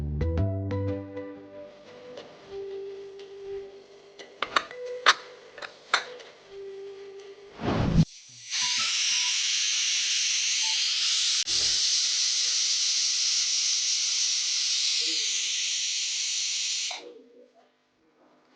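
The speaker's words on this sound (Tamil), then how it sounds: "இந்த ஸ்டீம் வெளியில் ரிலீஸ் ஆனதுக்கு அப்புறமா அதில் இருக்க அடைப்பெல்லாம் நீங்கிடும்" Steam hisses steadily and loudly from a pressure cooker of potato kurma for about eight seconds, then cuts off, after a stretch of kitchen clatter and knocks.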